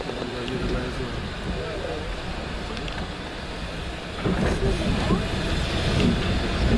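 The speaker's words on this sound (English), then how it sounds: "So this is the last time this train's going to go up today." Last train departing Liverpool Road station, a low rumbling rail roar with clattering wheels building as it pulls away, heard under background voices nearby.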